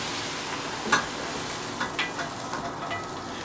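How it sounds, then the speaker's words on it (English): Stewing food for Uzbek plov gets scraped and spooned from a skillet into a pot, a steady low sizzle with a few clinks and scrapes of a utensil against the pan, close and fairly quiet. "we're just going to transfer this into the next pot"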